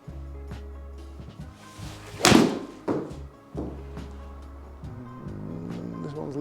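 A golf ball is struck with a pitching wedge on a golf course, giving a sharp, loud impact near the middle, with a few quieter thuds after it and a low steady hum beneath.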